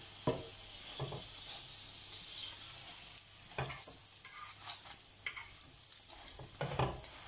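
A Punjabi dhaba-style aloo paratha, potato-stuffed and brushed with ghee, fries on a griddle with a steady hissing sizzle broken by repeated scrapes and taps of a spatula turning it.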